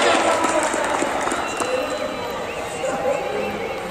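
A crowd at an amateur football final applauds a player, a steady wash of clapping and crowd noise with a loudspeaker voice over it.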